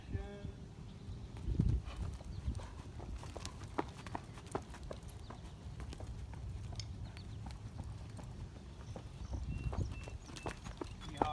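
Horse hooves clip-clop on the ground during lateral lunging training, an uneven walking rhythm of close thuds that runs throughout, with a few louder stamps and faint background noise.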